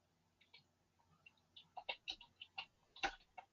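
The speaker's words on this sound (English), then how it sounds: "I hear somebody typing" Soft, irregular clicks of keys being typed on a keyboard, a quick uneven run of light taps, faint and close, with no talking over them.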